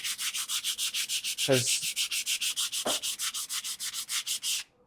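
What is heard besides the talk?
sanding the inside of a wooden box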